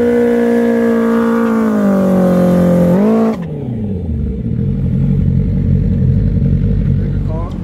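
A mostly stock motorcycle with a Voodoo exhaust and PC5 tuner, revving loud and close with a rising, throaty engine whine that drops sharply into a rough, rumbling idle.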